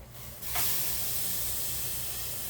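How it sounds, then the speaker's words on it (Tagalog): Pork fat pieces hit a hot pan to sauté in their own rendered fat, with a sudden loud hiss that rises after a quiet moment and then holds as a strong, steady sizzle. "Igigisan natin siya sa sariling mantika niya."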